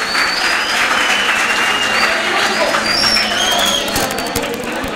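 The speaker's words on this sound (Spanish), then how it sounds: "Un fuerte aplauso para él." Applause at an athletes' awards ceremony, a loud, continuous wash of many people clapping close by, steady throughout with a slight easing at the end.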